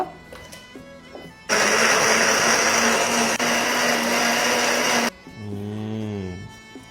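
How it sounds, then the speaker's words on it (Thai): An electric blender grinds southern Thai sour curry paste ingredients, including tamarind and shallots, in one loud, steady whirring burst of about three and a half seconds that cuts off abruptly. "แล้วก็เข้าเครื่องปั่นได้เลย"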